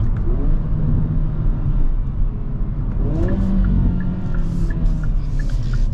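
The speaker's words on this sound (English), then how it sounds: "The acceleration is brutal in this Kona." A 2022 Hyundai Kona N accelerating hard from inside the cabin, a steady loud engine drone rising in pitch through gear changes, with road and wind noise and no talk.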